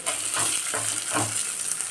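Steady sizzling of onion tempering frying in a hot pan for sambar, with a few soft stirring scrapes repeating every half second or so, nearby and with no talking.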